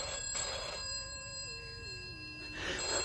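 Telephone rings out in a 1981 British crime radio drama, two bursts of a bright electronic bell close and clear with a quiet pause between, no voices over it.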